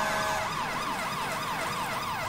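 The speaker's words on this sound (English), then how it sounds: "Use a little bit of actual siren." A wailing emergency vehicle siren in the video game EmergNYC sweeps up and down in a steady repeating cycle, loud and continuous.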